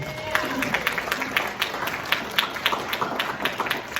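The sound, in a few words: audience round of applause at a meeting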